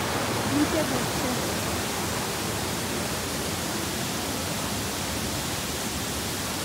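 Krangshuri Falls near Dawki in Meghalaya, where water pours down in a dense, constant roar filling the whole clip at close range, steady and unbroken.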